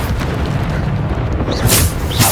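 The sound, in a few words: Bombarda spell explosion in a Hogwarts video game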